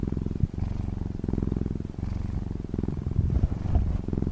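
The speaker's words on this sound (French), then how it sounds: "émettant un doux ronronnement." A creature purrs softly and continuously, a low rolling rumble with a pulsing texture that stays close and steady throughout.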